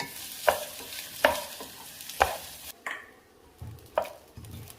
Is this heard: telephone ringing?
no